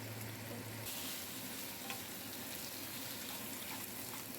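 Fish heads and soaked gobindobhog rice stir-fry in a hot pan, a steady low sizzle with faint scraping and stirring, constant and fairly quiet with no talk.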